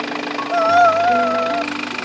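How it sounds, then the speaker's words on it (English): A steady engine idles nearby with a low, even hum, and a brief whirring tone rises and falls over it for about a second. No one speaks. "I hear engine running."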